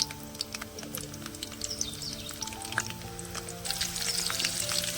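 Potatoes deep-fry in oil in a pan, giving a soft, steady sizzle that grows a little louder near the end, with faint chirps in the background and no talking.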